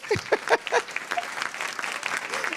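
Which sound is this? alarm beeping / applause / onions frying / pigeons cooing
applause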